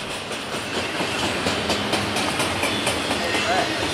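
Long freight train of intermodal cars with empty cars at the end rolling past close by, a loud continuous rumble with rhythmic clickety-clack of wheels over rail joints.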